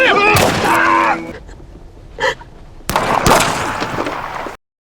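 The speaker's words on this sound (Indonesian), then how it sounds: "Mendengar suara tembakan, Kendall paham apa yang terjadi." A few sharp, loud gunshots crack out in separate bursts, mixed with other noisy sounds and a voice.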